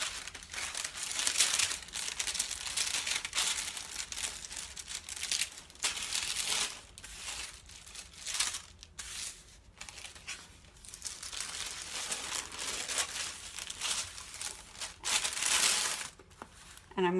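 Paper sewing pattern for a sleeve being folded in half, with crinkling and rustling handling sounds that come and go across the stretch, close by, with a voice speaking intermittently over them.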